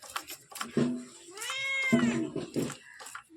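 Cat meowing insistently near a kitchen where fish is being prepared, a few drawn-out close meows with rising and falling pitch, mixed with faint background sounds.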